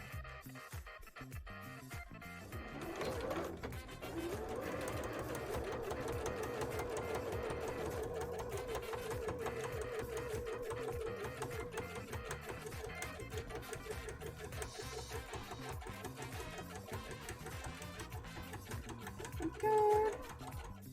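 A sewing machine runs a long continuous line of stitching on a Scooby-Doo bra: a steady, close mechanical whirr lasting most of the stretch, with a brief louder blip near the end and no talk.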